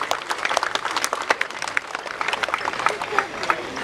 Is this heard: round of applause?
yes